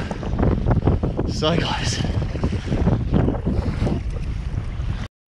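Strong gusting wind buffets the microphone during a sea kayak landing on the Kangaroo Island coast, a constant roar with surf and water noise beneath brief speech.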